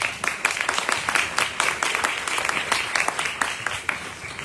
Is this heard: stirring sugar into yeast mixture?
no